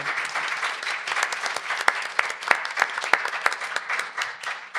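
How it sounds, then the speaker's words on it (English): An audience at an insurance panel event applauds its panelists: sustained clapping from a sizable crowd with a few sharp, louder claps standing out near the listener, steady throughout. "I want to give a round of applause to our panelists today"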